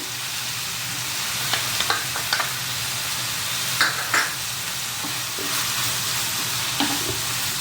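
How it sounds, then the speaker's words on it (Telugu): A cup of grated coconut is tipped into a pan of frying carrot and stirred, giving a steady sizzle punctuated by repeated scraping and tapping of a spoon against the pan. "ఇప్పుడు కొబ్బరి, 1 కప్ కొబ్బరి వేస్తున్నానండి దీనికి."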